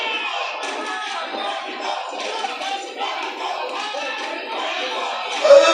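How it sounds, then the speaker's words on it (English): At a boxing match in the Barclays Center, a large crowd keeps up a continuous, diffuse roar of cheering and murmur, with a brief louder swell at the end. "Well, just a great crowd here."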